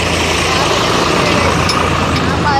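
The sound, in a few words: tractor driving past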